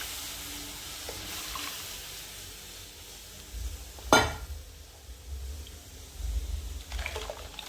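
A quiet, soft sizzle from a hot pan, with a short sharp splash as ground nut batter for halwa is poured in, then a low steady hiss.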